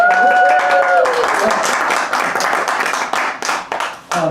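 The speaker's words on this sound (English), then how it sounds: "Let us have a round of applause" Applause from a house-concert audience for a storyteller appearing as Hans Christian Andersen, a dense wash of clapping that thins out toward the end, following a sustained musical tone at the start.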